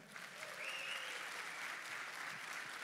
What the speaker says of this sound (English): So big round of applause for Terry Edom.